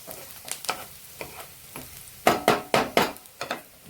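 Onions fried to a pink colour are pushed aside in a pan with a spoon, giving a series of quick scraping, sizzling strokes that grow louder and more rhythmic toward the end, with no talking.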